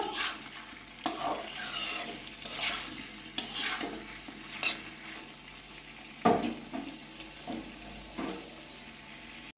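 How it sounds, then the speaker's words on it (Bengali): Potatoes, onion and tomato frying in a pan and being stirred, with steady sizzling broken by repeated loud scraping strokes of a spoon against the pan at an uneven rhythm, close and with no talk. "আরও কিছুক্ষণ আমি ভাজা ভাজা করে নেব"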